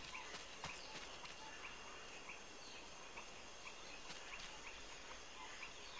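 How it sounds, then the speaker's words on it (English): Footsteps in Metal Gear Solid Peace Walker, a soft, steady patter of steps over a dense, hissing outdoor game ambience, quiet and continuous throughout. "Thought I heard footsteps."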